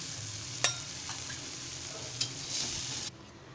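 Bombay duck fish fry Malvani style in a pan, giving a soft, steady sizzle close by, broken by two sharp clinks of stirring and a brief swell before the sound cuts off.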